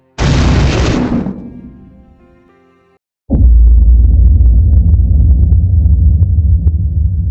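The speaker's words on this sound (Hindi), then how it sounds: "एक ज़ोरदार धमाका हुआ और सब कुछ वाइट हो गया।" An atomic bomb explosion effect over Hiroshima: a sharp, loud blast with a bright hissing burst that decays over about two seconds, a brief silence, then a heavy, sustained deep rumble that continues to the end.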